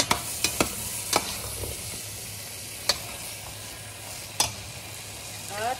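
Fried kingfish being stirred in a hot sizzling pan for a tomato kinamatis dish, a steady fry hiss broken by several sharp scraping clacks of the spatula against the pan.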